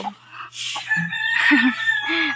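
Chickens cluck and chicks cheep nearby, with a steady high peeping running through repeated short clucks.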